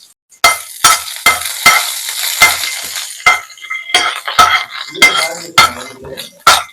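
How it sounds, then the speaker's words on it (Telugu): Whole spices, including shahi jeera, cardamom, cloves, peppercorns, star anise and a piece of cinnamon bark, dropped into hot oil. Close, sharp clinks and stirring scrapes sound in quick bursts over a soft sizzle. "ఆయిల్ ఇలా హీట్ అయ్యాక అందులో కొంచెం షాజీరా, ఒక యాలుక్కాయ, 3 లవంగాలు, 3 మిరియాలు, కొద్దిగా అనాస పువ్వు, ఒక ఇంచంత చెక్క తీసుకున్నానండి."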